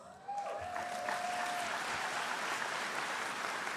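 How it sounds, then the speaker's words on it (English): Graduation audience at a Class of 2025 commencement bursts into loud, sustained applause that starts abruptly and holds steady as a dense wash of many hands clapping to the end. "give yourselves a round of applause"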